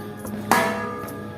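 A bell of San Guillermo Church in Bacolor, Pampanga, gives a single sharp strike that rings on with sustained metallic overtones, close and fairly loud.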